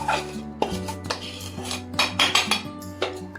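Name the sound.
mixing sugar into semolina ladoo mixture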